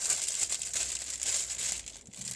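Close, continuous crinkling of plastic packaging from a parcel from China being handled and folded, a steady rustle for a couple of seconds with no talking.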